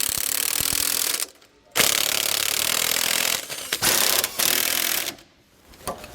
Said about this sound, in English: We're going to use a 19mm socket and wrench all the way around to do so